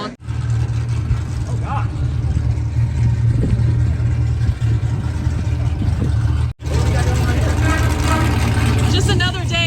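Car engine droning and revving at a drift day on the Import Image Racing track, a loud, continuous low rumble heard from nearby with a brief break, while a person talks over it.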